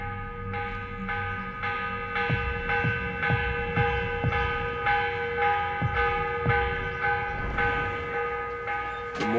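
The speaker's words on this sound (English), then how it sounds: "The morning bell." A morning church bell tolls in Assassin's Creed Revelations, repeated loud strikes with long ringing overtones that sustain and overlap over a steady hum, with no voices.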